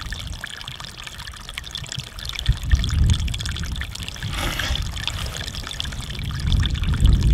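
Shallow, near-freezing mountain water in Chile trickles and gurgles close by, with a continuous burbling flow that swells in a few brief surges.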